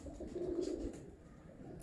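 A prized fancy pigeon, one of a breeder's champion birds, gives a soft, low throaty coo that swells once and fades, close by and quiet against a light background hiss.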